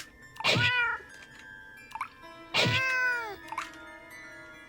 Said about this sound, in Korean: 멍청한 고양이